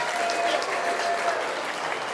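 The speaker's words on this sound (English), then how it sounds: "big round of applause" Spectators at the North Idaho State Fair market swine quality judging applaud steadily, a dense, continuous clatter of many hands in an arena, moderately loud with a faint tonal hum running underneath.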